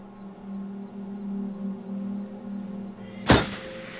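A single loud gunshot cracks out in the video game Until Dawn, following a quiet stretch of regular chirping ticks and low ambient hum.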